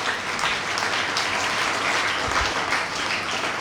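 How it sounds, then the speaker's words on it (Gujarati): Steady, dense applause from an audience at a library's summer reading festival opening ceremony, sustained evenly at close range with no voices on top. "આપણે ખૂબ તાળીઓથી વધાવી લઈએ અત્યારની સમગ્ર ટીમને"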